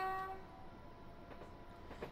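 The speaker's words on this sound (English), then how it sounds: "as we pass train number 20" A train rolls past in a London to Brighton rail simulator game, a steady low rumble of wheels with faint horn-like tones early on and a few clunks along the way.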